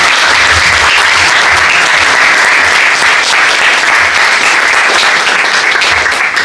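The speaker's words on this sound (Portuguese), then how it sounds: "Gostava de pedir para já uma salva de palmas para o Hudson por esta brilhante apresentação." An audience at a conference on loricariid fish gives speaker Hudson a loud, close, continuous round of applause. The clapping stays dense and steady throughout with no speech over it.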